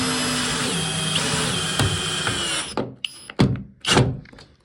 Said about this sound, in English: So I'm going to try these longer screws.